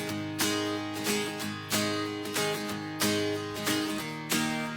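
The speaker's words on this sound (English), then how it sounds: "So this acoustic guitar sounds like this." An Epiphone acoustic guitar plays a rhythmic strummed pattern in a folk-style track, with steady accented strokes and ringing chords. The guitar sounds clear and close, with no voices.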